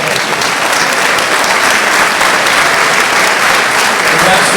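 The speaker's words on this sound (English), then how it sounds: "Round of applause for all of us." Sustained, dense applause from an audience at a college speaking event with Modesto Junior College and elementary students present, steady and loud throughout without letting up.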